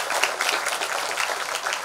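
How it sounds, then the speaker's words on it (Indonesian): An audience at a talk clapping steadily and evenly, a dense wash of handclaps that holds at the same level throughout. "Ya, tepuk tanganlah semuanya."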